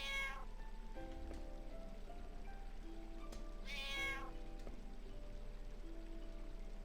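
Two drawn-out cat meows from Final Fantasy IX, fairly clear and mid-distance, sound over a steady background of soft game music and ambient hum.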